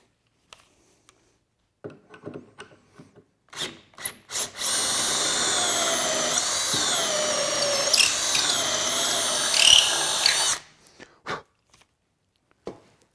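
A power drill bores holes in live edge table wood, with a few short bursts followed by one sustained whining run of about six seconds and some trailing clicks and knocks.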